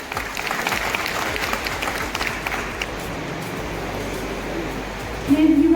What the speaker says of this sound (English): Please give a huge round of applause after every